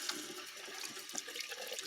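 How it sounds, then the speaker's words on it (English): Water runs from a tap into a sink as a continuous, fairly quiet splashing gush, with no speech. "You changed it so that the hot water comes out of the cold water tap?"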